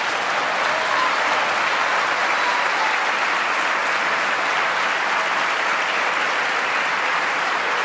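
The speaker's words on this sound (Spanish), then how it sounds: "todos aplaudiendo, de izquierda y derecha" Legislators in a chamber break into sustained, dense applause after an expropriation announcement, a thick even wash of many hands clapping with no voices standing out.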